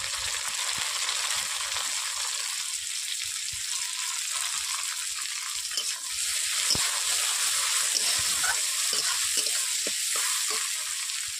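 Onion and chopped tomato frying in a pan for a Bengali fish and drumstick curry, a loud, steady close sizzle with bursts of crackle and occasional stirring clatter throughout.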